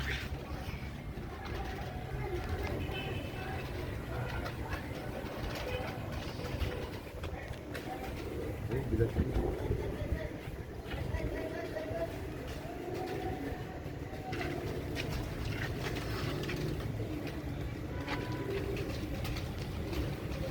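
A pair of Royal Teddy pigeons, a male and a female, coo softly and intermittently against a steady background hum while someone talks in Hindi/Urdu.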